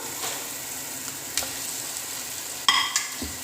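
Kothu idli being gently stirred and fried in a pan, with a steady soft sizzle and occasional scraping clinks of the spoon against the metal.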